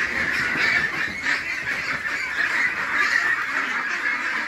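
A flock of ducks on a duck farm in Merapani keeps up a loud, continuous chorus of overlapping honks and quacks close by, with no talking.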